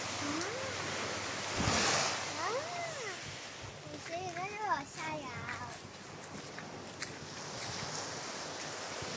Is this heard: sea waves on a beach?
yes